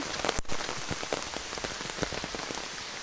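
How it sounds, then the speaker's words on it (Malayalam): Heavy rain pours down steadily during local flooding, a dense hiss of drops hitting surfaces, close and continuous with scattered sharper splats. "ഇവിടെയൊക്കെ മഴ കൂടി വരികയാണ് നല്ല മഴയാണ്"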